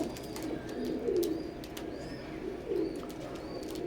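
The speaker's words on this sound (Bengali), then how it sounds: "তো কবুতরগুলো একটু খেয়াল করবেন মাশাআল্লাহ।" Imported-bloodline teddy pigeons coo in a loft, two clear bursts of low rolling cooing rising over a soft background of cooing and faint chirps, close by, with no talking.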